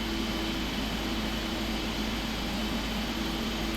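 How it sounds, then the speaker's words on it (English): A 777-300ER jet engine spooling up in the Prepar3D flight simulator gives a steady, broadband roar with a low tonal hum, constant and unbroken throughout with no talking. "Engine starting up."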